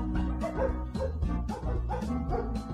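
A playful melody from the game Majotori with a dog's bark woven into it as a beat, short yips and bow-wows repeating in an even rhythm over the tune, clear and up front.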